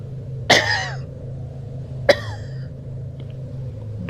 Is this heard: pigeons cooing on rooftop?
no